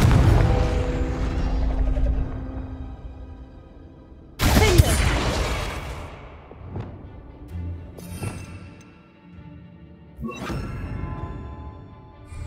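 A Confringo fire spell blast from Hogwarts Legacy erupts as a sudden loud burst, followed by a few shorter crackling impacts over a rumbling game backdrop.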